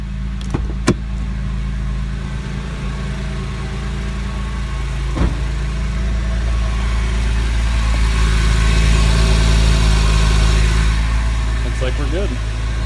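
A Porsche 996 911 engine idles steadily right after an oil change, a constant low rumble that holds close and even throughout, with a few faint clicks near the start.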